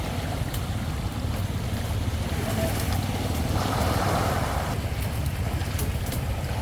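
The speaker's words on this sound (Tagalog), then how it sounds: "Binabalik na agos no, lakas." A strong current rushes down a swollen, high-water river, a loud and steady roar mixed with gusts of wind against the microphone.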